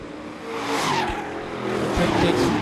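Sport trucks roar past wheel to wheel out of a turn at Seekonk Speedway on opening day, loud engines swelling and fading with a passing whoosh and faint tire noise.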